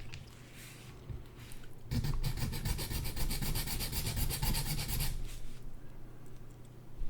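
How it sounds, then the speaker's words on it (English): Grinding down the saddle of a fretless acoustic bass, a dense rasping rub that starts suddenly and runs steadily for about three seconds, close up, with quieter handling before and after. "Now let's grind some of this off so it's a little bit forced to go in the right way."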